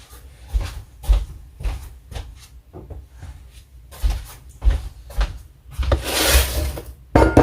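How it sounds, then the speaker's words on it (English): Someone gets a pan out of a kitchen cupboard, with a series of close wooden knocks, door bumps and clattering handling noises in irregular bursts. "let me get my pan"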